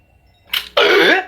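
A single short, harsh cough followed by a strained, rasping throat sound, close and loud.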